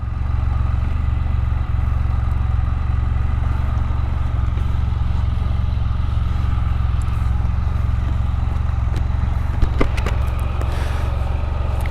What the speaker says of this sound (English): So what I'm going to do is just let it idle until the fans come on.